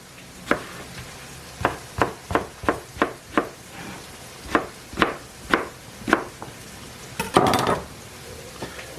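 Knife dicing vegetables into half-inch pieces on a cutting board for a lasagna: a dozen crisp, close chops in an uneven rhythm, then a brief scraping rattle, with no talking.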